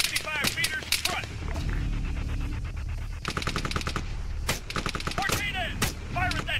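Rapid automatic gunfire and single rifle shots from an Arma 3 firefight crack in dense bursts and a sustained stretch, loud and close, with shouted voices between volleys.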